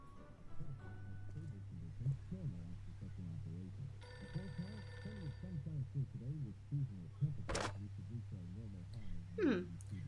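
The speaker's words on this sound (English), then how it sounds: "It's a phone call about TV business." A telephone rings in two bursts of trilling bell tones, heard over a steady low hum and a voice speaking throughout.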